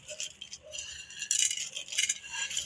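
Dry fruits tumbling into Memoni pak, an Urdiya winter sweet, in a pan, giving light rattling, clinking bursts with no talk in between.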